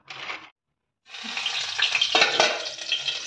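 Papad fries in hot oil with a close, crackling sizzle; a short burst, a half-second gap, then a sustained louder bubbling hiss with stirring, no voices.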